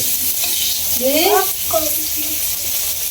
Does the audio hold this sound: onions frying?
yes